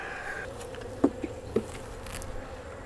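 Honey bees buzz in and around a hive frame, a steady faint drone with a few louder passes from single bees flying close, and no talk.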